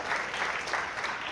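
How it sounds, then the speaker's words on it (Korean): Brief, faint applause from the audience at a church book talk by a pastor, steady clapping lasting just over a second. "일단 박수 부탁드리겠습니다"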